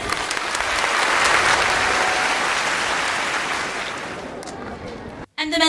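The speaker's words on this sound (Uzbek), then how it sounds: "Amdiki olqishlarimiz ana shu ulug' dadalarimiz uchun" Audience applause at a gathering honouring fathers, steady dense clapping from a crowd that holds for several seconds, thins slightly toward the end and then cuts off abruptly.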